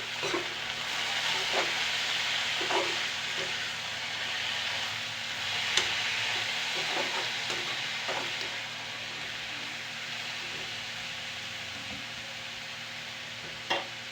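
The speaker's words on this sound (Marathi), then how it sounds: "आता तूर डाळला आणि शापूला मिक्स करून घेऊया बरं असं" Tur dal and shapu greens are stirred in a pan, with soft scraping strokes and a light steady sizzle close by, repeating at an irregular pace with no one speaking.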